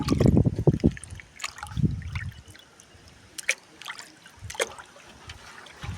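Oil cake fertilizer solution stirred in water for rose plants, with close liquid sloshing and trickling in uneven bursts, strongest at first and then softer splashes and drips.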